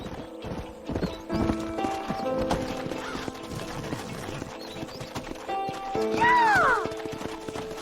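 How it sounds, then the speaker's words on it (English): Horses gallop across the Old West in the Red Dead Redemption video game, rapid hoof clip-clops under game music with a loud whinny near the end. "Horses are over here!"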